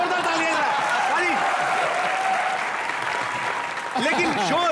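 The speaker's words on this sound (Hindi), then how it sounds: "एक बार जोरदार तालियां पाजी।" A studio audience at a TV comedy show claps and cheers loudly and continuously, the dense applause carrying a few whoops and shouts before briefly dipping and swelling again near the end.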